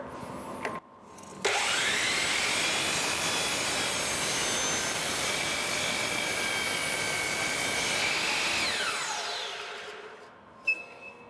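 A power saw bites into a wooden quilt rack support, its trimming cut a steady, loud whine after a short startup, holding for about eight seconds before winding down, followed by a brief clunk.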